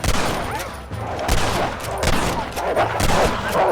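Gunfire crackles through a shootout in the video game Red Dead Redemption on PC. Rapid, overlapping loud shots and volleys fill the scene continuously, with voices shouting beneath them.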